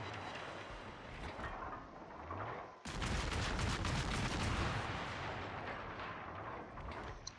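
Naval shells firing and booming in the World of Warships game, with a sharp cut into heavy continuous rumbling salvos and explosions, loud and dense with no speech.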